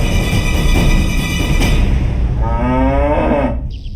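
Buffalo lowing loudly and close, a long sustained moo with a sharp rising tail near the end.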